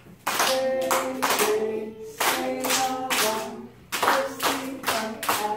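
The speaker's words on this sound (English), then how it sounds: "Everybody, please clap the rhythm and check our work." Kindergarten children in a classroom clap a rhythm together, short bursts of unison claps grouped into patterned phrases with brief pauses between them, close and lively.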